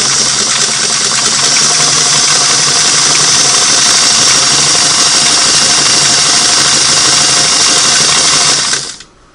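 Singer Model 338 sewing machine stitching with a fashion disc, a loud, close, continuous rapid mechanical whir and chatter that runs steadily and then stops abruptly at the end.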